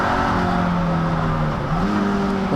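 Toyota MR2 race cars pass at speed around Snetterton, their engines roaring loudly and steadily, pitch shifting as they go by, with no talk over them.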